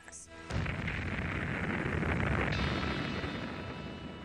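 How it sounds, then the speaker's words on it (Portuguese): A deep, sustained roar of sonic booms from military aircraft crossing the desert, starting with a sharp onset after a brief quiet moment and rumbling loudly for several seconds before slowly fading. "Eles fazem muito barulho ao atravessar o deserto. São explosões sônicas."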